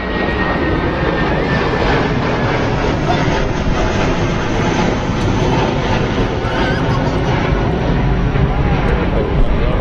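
Boeing 787-9 Dreamliner on the apron at London Heathrow, a loud, steady jet engine roar filling the whole ten seconds with a high whine on top, with no words spoken.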